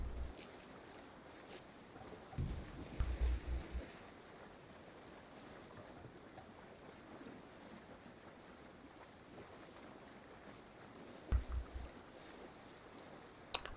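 Wind and lapping waves around a sailing ship on open water in Assassin's Creed Valhalla, a steady airy wash with a few heavier thumps of creaking wood or splashes early on and near the end.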